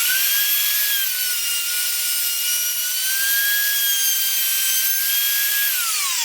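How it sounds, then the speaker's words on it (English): Router cutting rosewood for a gift box: a loud, continuous high-pitched whine with a steady tone, held for several seconds before the pitch drops slightly at the end. "So I'll get that dust free and go through with the router now."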